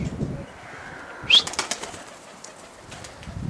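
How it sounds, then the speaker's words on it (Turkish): Pigeon taking off from a Turkish loft, wings flapping in a short burst near the mic, followed by quieter fluttering as it flies away. "Dün akşam kaldırdığımız kuş uçuyor."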